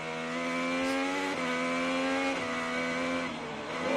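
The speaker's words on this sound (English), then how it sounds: "We watch here the wing end plate into the tire of Rossi, and it immediately cuts the tire down" Onboard an IndyCar during a 2021 race crash, after a wing end plate cuts a tire, the engine keeps up a loud buzzing whine that drops in pitch in stepped shifts, with rough tire and road noise beneath.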